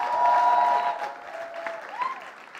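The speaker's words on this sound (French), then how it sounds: "Est-ce qu'on peut applaudir Teresa," An audience applauds a woman named Teresa at a youth event, a dense burst of clapping that swells and then tapers over a couple of seconds, with a voice briefly heard over it.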